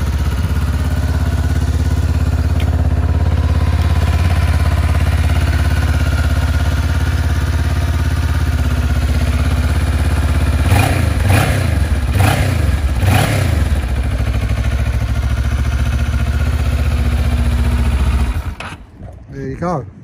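A 2007 Kawasaki ER-6F motorcycle with 34,707 miles runs close by with a loud, steady idle, blips of the throttle revving it up several times midway before the engine cuts off near the end.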